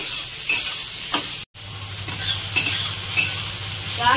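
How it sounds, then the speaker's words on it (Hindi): Chopped brinjal stirred and fried in a pan for bhujia, a steady close sizzle with repeated scraping stirs roughly every half second to second, broken by one brief silent gap; no talking. "अब यहाँ पर हम डाल देते हैं कटा हुआ बैंगन, अच्छे से हमें चलाते हुए भूनना है।"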